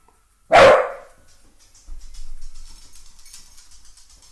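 A dog gives a single loud, sharp bark near the microphone, followed by quieter low rumbling and shuffling noises; no one speaks.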